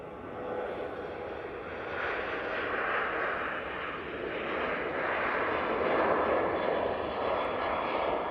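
An airliner departs Manchester Airport, with steady mid-distance jet engine roar that slowly builds and holds, no voices over it.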